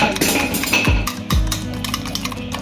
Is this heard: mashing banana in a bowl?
yes